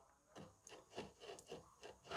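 A hand saw is drawn back across a wooden board to start a cut for a tray. About five soft rasping strokes follow one another in a steady rhythm, quiet and close, with no voice.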